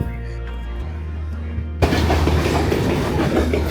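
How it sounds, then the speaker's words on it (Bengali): A train passes through a station in Colombo without stopping; a low engine drone is followed by a sudden loud rush of wheels and carriages rolling past close by, steady and continuous. "এই ট্রেনটা কিন্তু এখানে দাঁড়াচ্ছে না"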